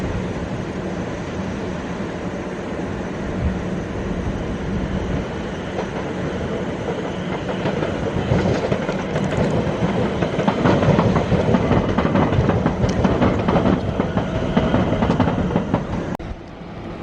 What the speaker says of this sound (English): there's an overground coming in